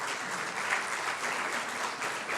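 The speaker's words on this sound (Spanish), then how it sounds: "¿Puede darle una ofrenda de palmas a nuestro amado Dios?" A church congregation applauds as an offering of praise during a service, a steady dense wash of clapping that holds evenly throughout without pause.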